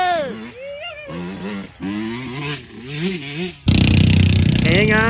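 Off-road motorcycle with its exhaust removed, racing in the Monkey Run at Seneca Highlands, roars through rising and falling revs, then blasts in loud and close with a harsh, raw bark; excited voices shout over it.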